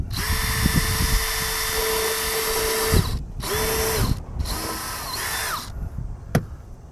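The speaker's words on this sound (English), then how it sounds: "Drill the other hole in it." A power drill whines steadily in three long bursts separated by short pauses, loud and close, ending with a sharp click.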